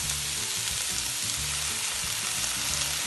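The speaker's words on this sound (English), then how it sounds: "And now, for some extra flavor, we will be adding soy sauce in." Soy sauce hits Hakka noodles in a hot pan and sets off a loud, steady sizzle and frying hiss, with faint stirring scrapes underneath and no voice.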